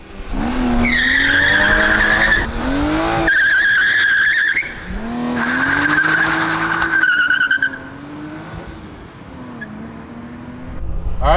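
A 1995 BMW E36 M3 Lightweight is driven hard, its engine revving and falling in repeated surges with squealing tires, loud and close, easing off toward the end.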